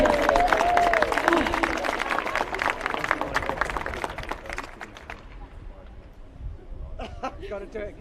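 Crowd at a FIFA Women's World Cup countdown livestream event applauding and cheering, a loud, busy clatter of clapping with shouts that gradually thins out, after which people talk.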